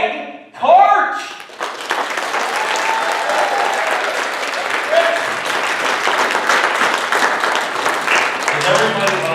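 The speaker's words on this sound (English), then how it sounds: "I want you guys to give this guy a huge round of applause." Audience at an outdoor kids fishing clinic breaking into loud, sustained applause and clapping that carries on steadily after a short vocal outburst at the start.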